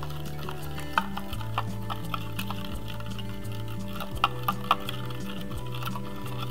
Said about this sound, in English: Then you're gonna mix it up.